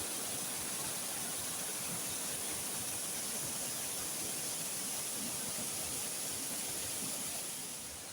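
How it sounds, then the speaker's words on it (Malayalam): A small waterfall fed by a little stream gives a steady, loud, broadband rush of falling water that holds evenly throughout, with no voices. "അവിടെ നിന്ന് താഴേക്ക് പോകുന്ന ഒരു വെള്ളച്ചാട്ടമാണ്"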